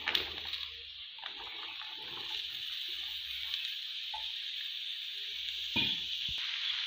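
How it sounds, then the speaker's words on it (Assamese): Chopped vegetables tipped into hot oil with a spice mixture in a home kitchen, giving a steady close sizzle with brief clatters and a sharper burst near the end. "এতিয়া ধুনীয়াকৈ মিশ্ৰণখিনি তেল বিৰিঙি অহাৰ পাছত এয়া মই কাটি থোৱা চব্জিখিনি দি দিছোঁ"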